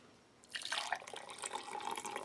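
Hot water poured from a kettle into a cup, starting after a brief quiet lead-in and running as a steady, bright splashing trickle to the end.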